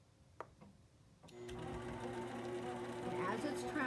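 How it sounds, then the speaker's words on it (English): An Intelliquilter quilting machine stitches a straight line across fabric, starting up after a quiet moment with a couple of faint clicks, then running in a steady, close, continuous mechanical hum. "I'm going to stitch right along that line that I marked"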